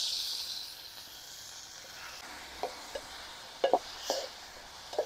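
Chopped tomatoes are added to hot oil with green chilies and cumin, giving a soft steady sizzle with a few sharp spatters and crackles toward the end.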